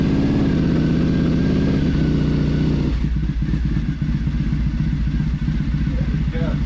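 A scrambler motorcycle engine cranks with the choke on, then catches and settles into a loud, close, rumbling idle with uneven pulsing.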